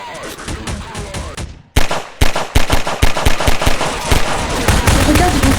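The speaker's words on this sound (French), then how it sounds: "fais attention, les soldats, ils peuvent te tirer dessus" Soldiers firing in the Roblox game Garry's Mod, loud close rapid bursts of gunshots that pause briefly and then resume as dense continuous fire, with some speech mixed in.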